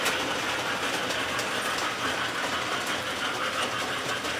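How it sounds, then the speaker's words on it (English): A model Christmas train runs through a holiday layout, giving a steady, close mechanical clatter of small wheels and gears that continues unbroken with no voices. "The Christmas train kind of cuts through"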